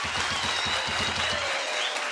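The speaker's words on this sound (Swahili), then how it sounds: "Makofi basi kwa wadau wetu ambao wameweza kushughulika." An audience at an academic showdown event claps, a brief burst of rhythmic applause from a modest crowd that tapers off toward the end.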